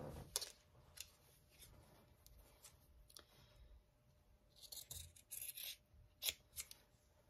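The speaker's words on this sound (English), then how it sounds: "I'm going to cut this off." Scissors snip through quilt binding fabric with a few close, quiet cuts and rustles, and a brighter burst of snipping near the end, with no talking.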